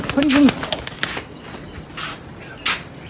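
A pigeon perched on an umbrella gives a brief low coo near the start, followed by scattered soft clicks and wing flaps against the fabric, with faint background voices.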